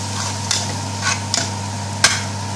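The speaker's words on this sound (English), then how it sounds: "Mix all the spice in. Really give a good mix." Spices being stirred into beef mince curry in a hot pan, a spoon scraping and knocking a few times over a low steady hum and faint sizzle.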